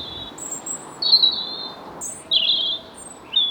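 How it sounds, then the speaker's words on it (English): A robin singing from trees near a walled garden, bright whistled phrases in short bursts separated by pauses, fairly close and clear over a soft outdoor hiss. "there is someone, I think it's a robin, up in the trees serenading me"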